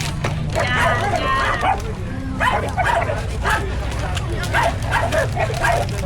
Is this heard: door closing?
no